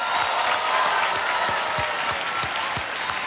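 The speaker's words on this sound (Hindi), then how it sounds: "तालियां बज जाए इनके लिए।" Studio audience on a quiz show set applauding a young contestant, a loud, even burst of many hands clapping together throughout, with no talk over it.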